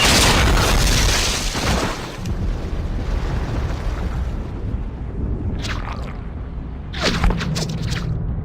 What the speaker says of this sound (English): An artillery strike scattered what's left of our squad all over the beach.